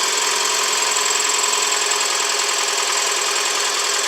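A 2007 Toyota Camry engine runs steadily at its first startup after work, a loud, close, continuous hum with a constant rough mechanical texture and no speech.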